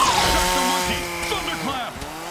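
Revving chainsaw from a violent futuristic football video game, a loud buzzing engine drone with shifting pitch, heard alone and continuous throughout.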